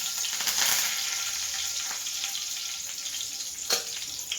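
Curry leaves drop into hot oil and sizzle loudly, a dense crackling hiss that surges at first, then settles into steady frying with a brief sharp spatter near the end.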